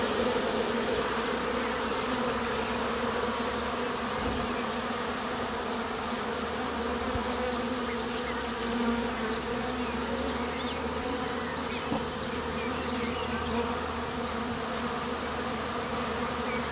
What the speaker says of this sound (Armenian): Մի պահ լռեմ իմ սովորության համաձայն, որպեսզի մեղուների երգի ձայնը լսեք։